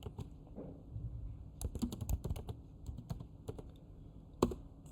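Python code is typed on a computer keyboard in a quiet room, a steady stream of soft, close key clicks with brief pauses and one louder keystroke near the end.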